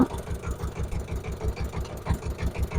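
A boat's engine runs as it moves along a tree-lined river, giving a low, pulsing throb with an even rhythm and no talk.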